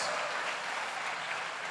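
A church congregation applauds, a dense, even wash of clapping from many hands that holds steady throughout the short moment.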